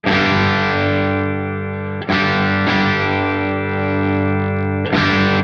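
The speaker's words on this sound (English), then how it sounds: "you can get some nice sort of lower gain tones, just that sort of very subtle breakup." An electric guitar plays through a Soldano SLO Plus overdrive pedal at low gain, loud sustained chords with slight breakup, restruck about three times and ringing out between strikes.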